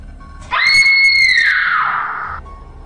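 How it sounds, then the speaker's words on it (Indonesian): A woman lets out a single loud, sustained scream that rises sharply, holds, then trails off over about two seconds. "tiba-tiba menjerit sangat keras."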